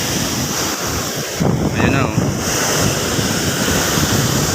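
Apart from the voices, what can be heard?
strong sea waves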